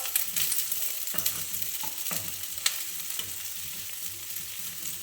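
Green chili, onion and garlic sautéing in a pan, a steady close sizzle with intermittent scraping clicks of a stirring spoon throughout, no talking.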